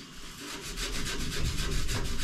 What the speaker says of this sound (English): You could use sandpaper or an emery cloth.